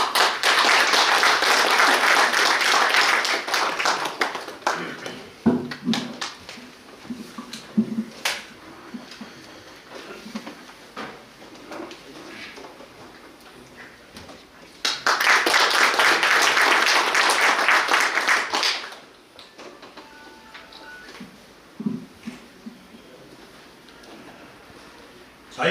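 Audience applause at a founding ceremony, two loud sustained bursts of many hands clapping, each lasting several seconds, with scattered claps and quieter room sound between them.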